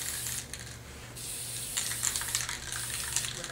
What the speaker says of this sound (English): Simply just tint by spraying